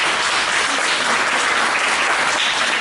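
An audience of parents at a 7th-grade school presentation claps steadily, a dense, continuous burst of applause that fills the room without a break.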